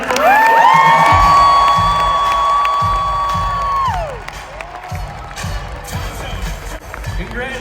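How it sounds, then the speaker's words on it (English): Spectators at a PBR bull riding rodeo in Boston cheer and applaud loudly, with whoops over a sustained blaring tone and thumping beat that cut off midway, then the crowd noise continues more raggedly. "And with that comes a giant Boston round of applause."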